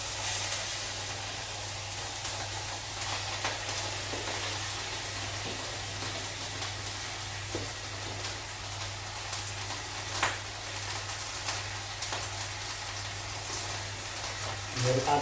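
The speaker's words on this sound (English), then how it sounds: "Okay, pan sugar getting hot. Bit of oil. Just going to place the steaks in." Steaks searing in a hot pan with a little oil, a steady broad hiss and crackle that holds evenly throughout, close and fairly loud, with no voices over it.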